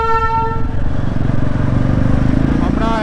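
A toy train at Ghum railway station in Darjeeling sounds a clear tonal horn blast at the start, then rumbles along with mechanical clatter, and a voice talks over it near the end.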